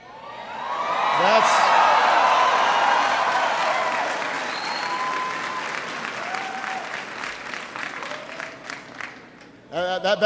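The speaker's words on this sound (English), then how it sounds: "That's what's called an applause line in the business." An audience breaks into loud applause with scattered whoops and cheers at a speech about American service in South Korea, the clapping swelling, then tapering before a speaking voice returns.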